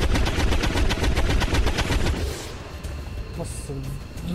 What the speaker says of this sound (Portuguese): trocentos tiros e não matou ninguém